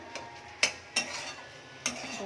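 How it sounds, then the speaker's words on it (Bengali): Ginger-garlic paste stirred in a pan for khichuri, heard as a few sharp spoon scrapes and clinks over a soft, steady sizzle, close by with no talk. "এটা আবার নেড়ে নিই ভালো করে, এটাও ভালো করে কষতে হবে"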